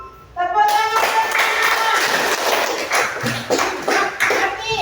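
Children clap together in a classroom in a lively, close burst of rhythmic hand claps, mixed with voices talking.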